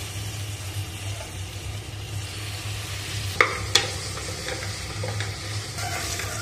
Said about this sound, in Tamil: இப்போ இதில் வந்து 1 கை அளவுக்கு மல்லி, 1 கை அளவுக்கு புதினா சேர்த்து வதக்கிக்கலாம்